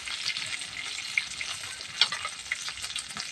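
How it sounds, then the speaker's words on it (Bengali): A dried red chili hitting hot oil, a dense crackling sizzle that holds steady throughout with a few sharp pops, close by and alone without any voices. "এটা এর মধ্যে একটা শুকনো লঙ্কা দিয়ে দেবো"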